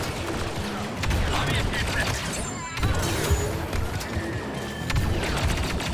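Gunfire and mounted turret fire in the Star Wars Battlefront II space-war PC game, a dense steady fusillade of rapid shots running throughout with a player speaking over it.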